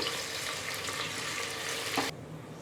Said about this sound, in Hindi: प्याज को हमें गोल्डन होने तक फ्राई कर लेना है चलाते हुए।